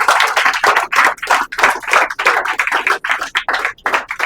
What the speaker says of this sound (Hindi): तो खुशियाली की तालियां कमाओ जल्दी।